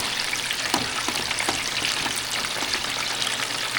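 Chicken pieces fry in hot oil, giving a steady, loud, close crackling sizzle with scattered pops throughout and no talking.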